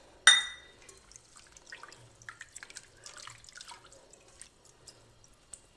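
Ground pepper, cumin and garlic powder being stirred and dissolved into tamarind water for rasam: a sharp clink at the start, then soft wet swishes and small drips close by.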